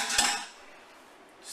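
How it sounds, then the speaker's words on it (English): A spoon clinks once against a dish during cooking, a single bright tap heard close, followed by a faint ringing fade and a quiet room. "Spoon."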